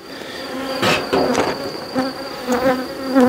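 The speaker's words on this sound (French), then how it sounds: "c'est normal, c'est un essaim" A honeybee swarm hums inside a beehive with a steady close drone, while individual bees zip past in louder passes.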